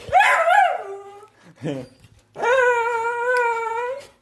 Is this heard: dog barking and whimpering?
yes